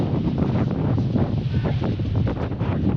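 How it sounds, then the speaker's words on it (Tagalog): Strong wind buffeting the microphone outdoors on a farm plot during a root-crop harvest, a steady loud rumbling roar with gusty surges that continues for the whole stretch. "Lakas ang hangin."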